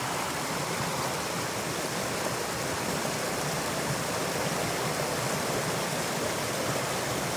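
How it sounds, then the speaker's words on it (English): A creek's water flows steadily over rocks, producing an even, continuous rushing hiss that stays close and constant throughout with no voices. "you get all the sounds, the wonderful sounds of the creek"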